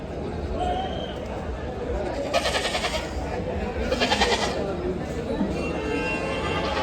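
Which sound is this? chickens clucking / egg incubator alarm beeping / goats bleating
goats bleating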